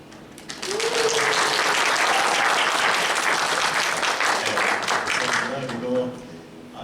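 A young-adult church congregation at a Sunday worship service in Auckland applauds, a thick burst of clapping swelling up and holding, with a few voices whooping over it before it fades away.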